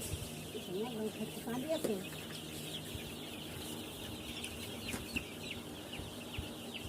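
Young chickens in a poultry house holding about 1400 birds cheep and cluck softly over steady background noise, with a few brief calls standing out near the start.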